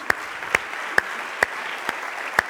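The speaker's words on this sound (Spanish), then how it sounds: "dale un aplauso a Jesús" Clapping at an online church program: six sharp, evenly spaced single claps, close and distinct over a quiet background.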